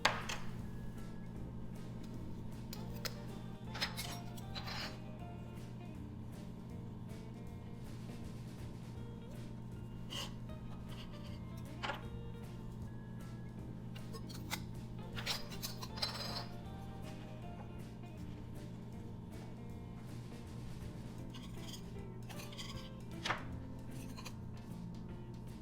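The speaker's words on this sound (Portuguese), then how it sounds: "Estou cortando o fundo com a ajuda de uma espátula." A spatula trims pâte sablée dough in small mini tartlet tins, producing quiet, scattered clicks and light taps at irregular intervals over a soft, steady background hum.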